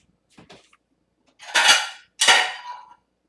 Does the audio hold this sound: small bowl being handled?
yes